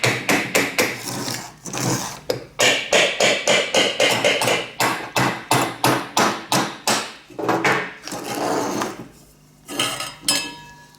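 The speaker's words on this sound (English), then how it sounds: "all I do to get this apart is just tap the shaft just gently" Steady rhythmic metallic tapping on a bandsaw motor shaft to free it from the casting, a long run of sharp, evenly spaced close knocks with a few short pauses, loud and with no talk.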